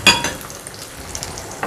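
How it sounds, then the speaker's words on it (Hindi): Chicken frying in a pan on low heat, a brief clatter of stirring at the start followed by a soft, steady sizzle close up, with no talking. "अब हम अपना चिकन फ्राई करेंगे"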